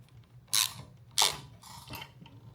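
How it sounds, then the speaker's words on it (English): Socket wrench tightening the nut on a drive pulley of a reelCNC Gen 3 conversion kit belt and pulley assembly, giving three short, close ratcheting bursts spaced about half a second apart over quiet room noise. "then we're going to take our socket again and tighten this up"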